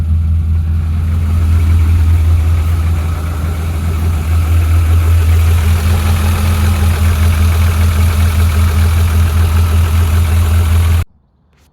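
Rover 25 GTI idling after its spring start-up, a loud, steady low rumble with a constant throb, close by and unchanging for about eleven seconds before cutting off abruptly.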